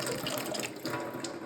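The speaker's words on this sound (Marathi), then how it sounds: "हा फ्रेश पाण्याचा नळ आहे" Steady rush of water pouring from a municipal tap in Kolhapur, the supply running milky white; continuous close splashing flow with no voices.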